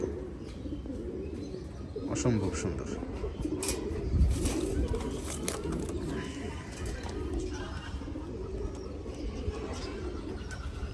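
Gorra pigeons coo in a loft, a low rumbling murmur running steadily throughout, with a person speaking briefly and other birds faintly chirping nearby.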